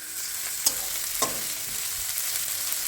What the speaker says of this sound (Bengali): রসুন কুচি এ আদা আদাটাকে একদম কি বলবো বেশি গুঁড়ো করে দিয়েছি এটা এবার একটু ভালো করে ভেজে নিই